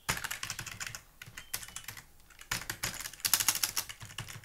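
Fast typing of PHP code on a computer keyboard, with dense clusters of close key clicks in short bursts and brief pauses between them.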